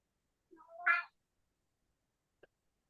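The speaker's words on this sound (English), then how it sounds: "We heard from my cat." A cat gives a single short meow, fairly quiet and close, followed by a faint brief click a moment later in an otherwise silent room.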